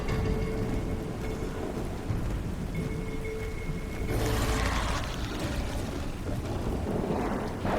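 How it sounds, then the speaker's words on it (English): Rain falls steadily in the video game ARK, with a broad continuous wash of noise across the whole span and a louder gusty surge midway; no distinct thunderclap stands out. "Sounds like it's raining."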